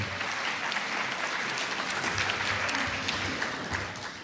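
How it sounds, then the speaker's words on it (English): A theater audience at an early Saturday morning mini medical school session breaks into sustained applause, a dense even roar of many hands that holds steady and tapers slightly at the end. "let's give yourselves a round of applause"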